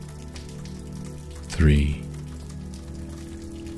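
Gentle rain falls in a soft, steady patter behind a calm voice. A short, louder swell of sound briefly rises over it.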